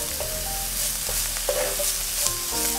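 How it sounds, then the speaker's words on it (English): Finely chopped onions and garlic sizzle steadily in a hot pan while being mixed around, a continuous crackling hiss broken by soft scraping stir strokes, close and fairly loud with no talk. "And I'll be adding some finely chopped onions, garlic, and I'll mix that around a little bit."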